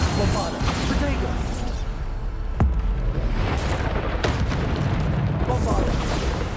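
Explosive spell blasts in the Hogwarts Legacy video game, heavy booms and bursts during combat, with one sharp crack standing out amid continuous rumbling action.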